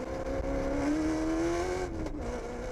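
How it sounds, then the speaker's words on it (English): On-board engine of the Team Castrol Toyota Hilux rally car in the production vehicle category, a steady loud drone with a rising and shifting engine note as it drives swiftly over rough terrain during the Sugarbelt 400, without speech. "The Team Castrol Toyota Hilux moving swiftly now."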